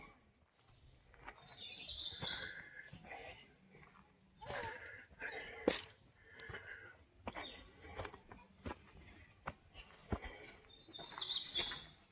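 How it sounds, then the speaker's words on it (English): Birds chirp in brief, scattered calls along a wooded hiking trail at Chimney Rock on a warm, quiet day, faint and distant against soft background noise. "You hear the birds in the background."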